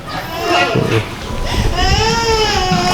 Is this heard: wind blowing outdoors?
no